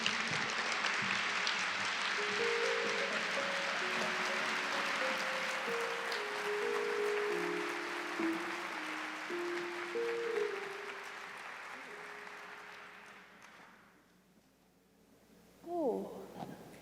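Audience at a memorial service claps steadily as a community choir comes to the stage, a broad wash of applause that fades out near the end, with sustained held tones beneath it.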